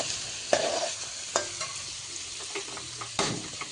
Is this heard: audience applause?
no